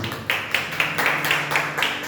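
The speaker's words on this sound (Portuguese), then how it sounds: "Pode se aceitar, aplaude o Senhor Jesus" A church congregation claps rhythmically in a steady beat of sharp, evenly spaced claps, with a faint background hum and music beneath.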